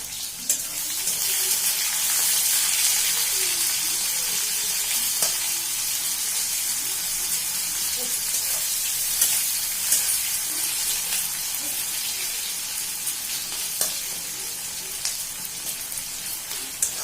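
Chopped onions sizzle in hot oil with bay leaf, dried chili and whole cumin for a chicken curry, a steady loud frying hiss with small crackles and the occasional stir.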